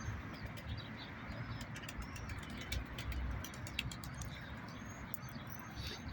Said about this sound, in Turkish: Kuşlarımız da bunlar.